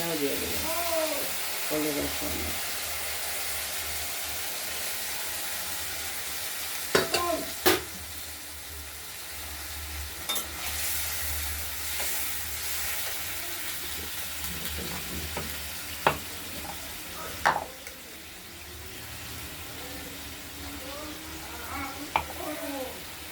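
A continuous sizzle and hiss of spices frying with tomato in a pan, broken by occasional metallic scrapes and clinks of stirring, with a voice talking over it.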